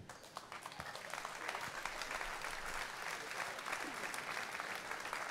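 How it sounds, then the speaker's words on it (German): A live audience at a German talk event on the red sofa breaks into steady, dense applause that swells slightly and holds at a full, continuous level throughout. "Danke für den Beifall."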